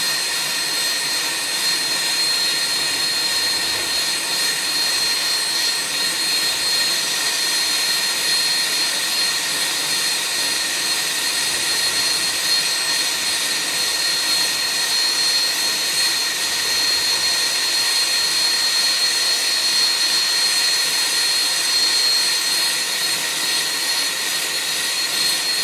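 Steady, loud roaring hiss of a torch flame heating an aluminum evaporator from a SubZero unit for brazing with AL822 rod, a continuous broadband rush with no break or talk for the whole stretch.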